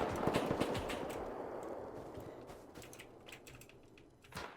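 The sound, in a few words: gunfire in the video game Rust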